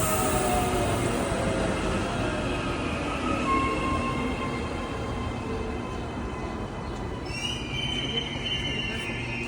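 A train rolls along rails in Auckland with a continuous rumble and rattle, high wheel squeals rising over the noise, heard from on board.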